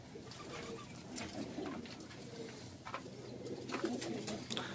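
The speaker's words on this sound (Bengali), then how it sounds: "তো ভাই একটু কবুতর দেখান" Many pigeons cooing together in a crowded loft of a large flock, with steady overlapping low coos and occasional wing flutters close by, no talking.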